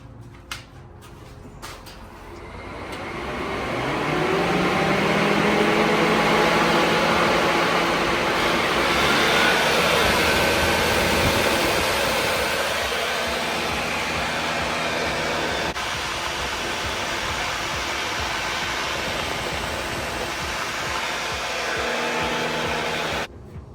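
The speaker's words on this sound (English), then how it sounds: "Hit the E-fans and hit the transmission cooler," Electric radiator fans and a transmission cooler fan on a budget burnout truck spin up after a few clicks into a loud, steady whooshing whir that holds for about twenty seconds before cutting off.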